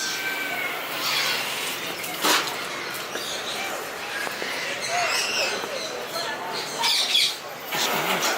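Caged birds squawk and chirp throughout a pet shop aviary in Taipei, a dense, near chorus of harsh calls with sharper bursts, while people talk over it.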